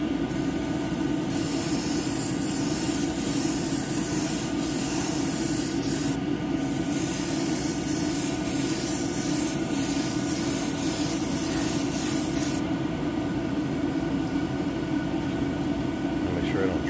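A Gaahleri Aventus airbrush with a 0.4 nozzle sprays paint in a steady, close airy hiss, broken by a few short pauses, with voices talking at times.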